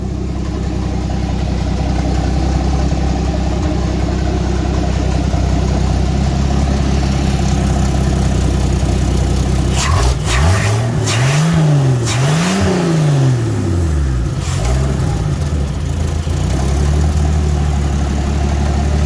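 A turbocharged Ford Bronco engine idles steadily up close outdoors in snow, then revs sharply several times midway with rising and falling pitch before settling back to a rumbling idle.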